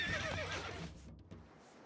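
A horse in the video game Stronghold: Crusader Extreme whinnies loudly with a rising, shaky call over a low rumbling background, fading out after about a second.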